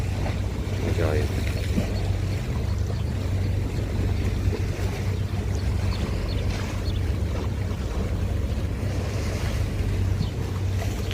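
Aegean Sea waves wash against the Izmir coast in a continuous surf, mixed with strong wind buffeting the microphone and a faint voice in the background.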